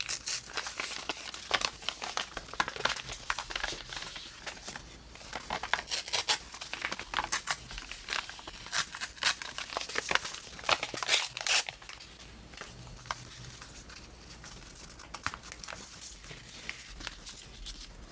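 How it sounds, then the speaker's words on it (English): Paper being torn and crinkled by hand for a junk journal: close, uneven bursts of crisp ripping and rustling that come in bursts, then settle into quieter handling. "So now I'm just going to tear this out."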